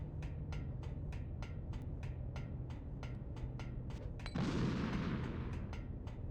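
Grenade blasts erupt in Metal Gear Solid: The Twin Snakes as cameras are destroyed, with one broad booming burst after a steady run of sharp rhythmic clicks over a constant game hum.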